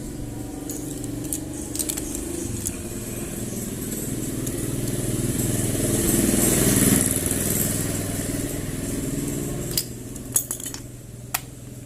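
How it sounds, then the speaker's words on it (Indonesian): A small motorcycle engine, just fitted with a new spark plug, runs steadily with a rattly idle that swells louder in the middle. Metallic clinks and taps sound over it. "motornya bisa bernyala"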